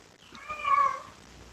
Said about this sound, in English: Oh, there is a cat.